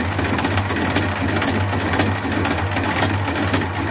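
Steady mechanical whir and chatter from a homemade lathe cutting tool, with a low hum underneath and gearbox backlash in the machine; a continuous, fairly loud drone with no talk.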